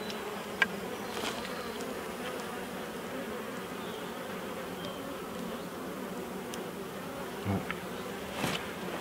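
Steady, dense buzzing of many honeybees at a hive fills the clip, a continuous hum with a few brief louder passes of individual bees near the microphone.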